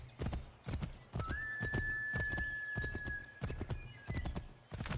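A horse in Assassin's Creed III gallops with steady rhythmic clip-clop hoofbeats and lets out a long whinny midway, heard fairly quietly.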